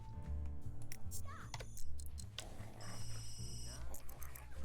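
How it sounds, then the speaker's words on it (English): A phone rings while a Sims 3 game plays, a repeating electronic tone in the middle stretch, mixed into game music and sound effects with talking over it. "can whomever's phone is ringing just stop?"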